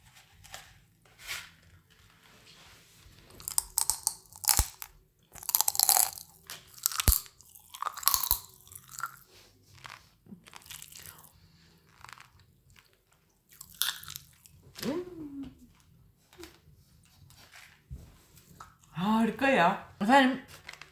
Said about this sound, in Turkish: bunları çiğnedikçe çıt çıt çıt çıt çıt çıt çıt patlıyor böyle çok güzel